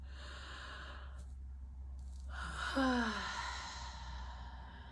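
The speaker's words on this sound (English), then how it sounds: "the first thing we're going to do is we're going to start yawning" A single drawn-out yawn with a voiced, falling groan, preceded by a quiet inhale, close and fairly soft over low background hum.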